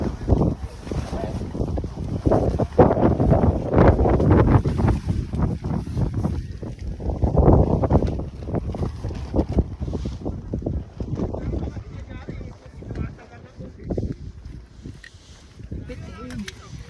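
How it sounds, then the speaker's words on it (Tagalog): Strong gusty wind buffets the microphone at a campsite at Viewscape Nature Park, a low rumbling roar swelling and easing throughout, with people talking underneath. "Lakas ng hangin."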